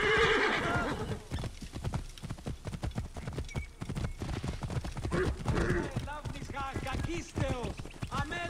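Horse hooves clip-clop steadily while a horse whinnies in Assassin's Creed Origins, with people talking over the sounds throughout.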